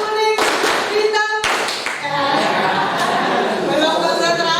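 Group of children doing an Indonesian color-word clapping game, with clustered rhythmic claps mixed with chanting voices and classroom chatter.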